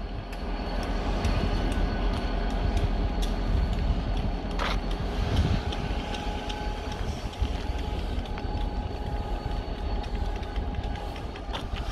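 A long freight train with log cars rumbles past with steady clanking and rattling of cars, a continuous loud rolling drone with occasional metallic knocks.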